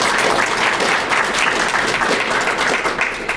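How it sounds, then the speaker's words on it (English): Loud, continuous applause from an audience at a youth leadership graduation ceremony, dense clapping sustained throughout without a break. "Let's give a round of applause for all those."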